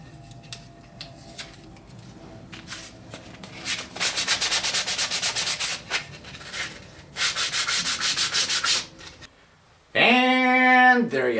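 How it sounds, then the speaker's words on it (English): Hand sanding of a wooden tray puzzle frame cut on a scroll saw: repeated back-and-forth rasping strokes in rhythmic bursts, close and fairly loud, ending with a short unrelated tonal sound. "just give the frame a good sanding"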